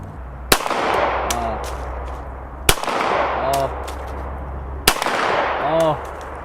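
Three loud, sharp pistol shots from a BCA Grizzly Glock clone, evenly spaced about two seconds apart, each followed by a ringing metallic ping from a struck target and low background murmur.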